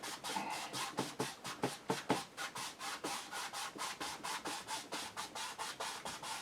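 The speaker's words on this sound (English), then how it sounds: "I'm just going to do crisscross strokes over the whole amount" A paintbrush scrubbing crisscross strokes of oil paint across a canvas for a sunset sky, a steady run of quick rhythmic rubbing swishes, close and fairly soft, with no talking.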